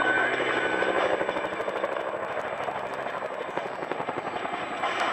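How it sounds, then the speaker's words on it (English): Cobra attack helicopters diving in a burst brake maneuver at an air demonstration, a steady rotor chop and turbine whine with a rapid rhythmic beat, loud and sustained, with no talk. "Watch now as they dive into the Cobra burst brake."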